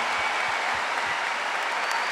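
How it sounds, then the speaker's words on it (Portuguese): An audience applauding at a church event, dense continuous clapping that holds at an even level throughout, with no voices standing out. "Uma salva de palmas para essa obra."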